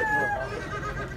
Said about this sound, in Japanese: このニワトリくんたちも売り物なんですね。